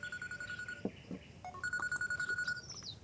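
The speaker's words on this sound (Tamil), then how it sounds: "ஐயா. ஃபோன்." A telephone rings in a scene from a Tamil film, its electronic tones chirping in repeated bursts over faint room background, moderately close with no voices.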